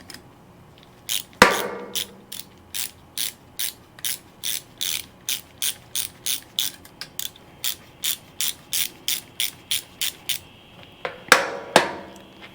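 A tool loosens a fitting on a Vevor 35-gallon fuel filter with a fast, even series of sharp ratcheting clicks, close and clear, and a couple of heavier metallic knocks near the start and end.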